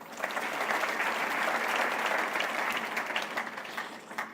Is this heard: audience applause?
yes